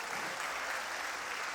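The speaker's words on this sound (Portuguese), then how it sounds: "Você pode aplaudir ao Senhor pela vida do Moisés?" Church congregation applauding during a Portuguese-language sermon: a brief, steady wash of many hands clapping together, fairly close and uninterrupted, with no voices over it.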